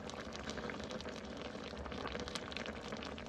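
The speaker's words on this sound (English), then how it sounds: "And you can see it's starting to boil away. Well, not boil, but it's starting to bubble." Kimchi stew seasoned with black pepper bubbles steadily in a pot as it braises, a dense, even simmering crackle that stays fairly quiet and continuous throughout, with no voices.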